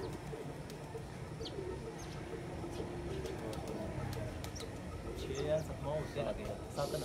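Pigeons cooing and chirping around a rooftop during a pigeon-flying tournament as the birds are let loose, over steady low background rumble, with someone talking throughout.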